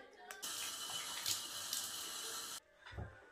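Tap water runs steadily into a bathroom sink as a face is rinsed, a continuous close splashing flow that cuts off abruptly, followed by a brief drip or splash.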